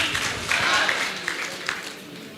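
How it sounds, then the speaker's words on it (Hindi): Audience applause at a seminar, a steady, fairly soft wash of many hands clapping, sustained throughout with a few louder claps standing out, heard from a moderate distance. "जोरदार तालियां हो जाए"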